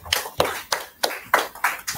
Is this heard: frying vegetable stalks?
no